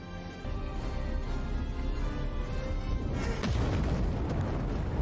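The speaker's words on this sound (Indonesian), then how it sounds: "melemparkan besi ke bola energi yang akhirnya meledakkan lab milik Dragon." A laboratory explodes in a film scene after iron is thrown into an energy orb: a sustained, loud, rumbling blast with dense crackling debris that swells further midway through, with no talking.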